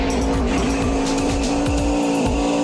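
A race car in a stunt driving video game, its engine screaming at a loud steady pitch while tires squeal repeatedly in short bursts through fast turns, with no talk.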